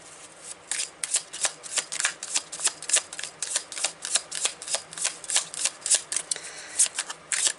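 A deck of tarot cards being shuffled and drawn, heard as a quick, steady run of crisp flicks and riffles, close and clear with no talking.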